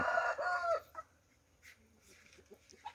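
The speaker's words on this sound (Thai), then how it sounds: "ไก่แข้งหน้า" A fighting rooster gives a short, loud crow up close, then settles into softer scattered clucks and rustling.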